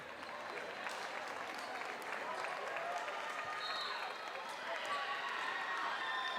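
A crowd at a high school volleyball playoff between Milford and Wayland cheers and applauds steadily in a gym, with an announcer talking over the broad, continuous roar.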